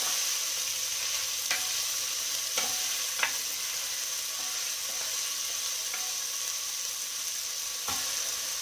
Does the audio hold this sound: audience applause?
no